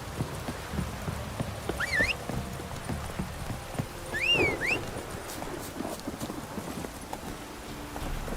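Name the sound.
horse hooves from the video game The Witcher 3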